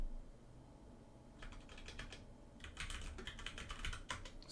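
Keys tapping on a computer keyboard in quick irregular bursts, faint and close, with short pauses between runs of keystrokes.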